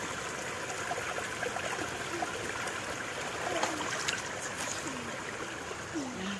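Spring water runs steadily at a natural hot spring in Laguna, a continuous close rushing and trickling wash that never breaks.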